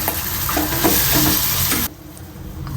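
Pasta stirred in a hot frying pan with pasta masala, a steady sizzle under scraping spoon strokes that cuts off abruptly near the end, leaving a quieter hiss.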